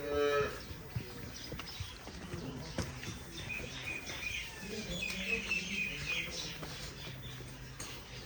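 Cows moo at a cattle sale, several low calls rising and falling over a steady outdoor murmur of voices, with birds chirping faintly in the background.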